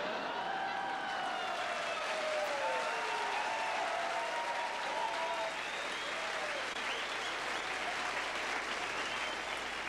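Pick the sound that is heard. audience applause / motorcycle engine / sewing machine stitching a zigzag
audience applause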